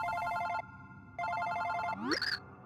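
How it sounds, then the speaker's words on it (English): A phone in Super Paper Mario rings in two bright electronic trill bursts, then a rising chirpy jingle follows, close and clear. "Oh wait, that's my phone."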